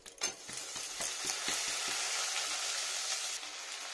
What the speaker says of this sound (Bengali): মূলোটা এর মধ্যে ভাজা ভাজা করে নেবো একটু, বাদামটার সাথে মূলোটা।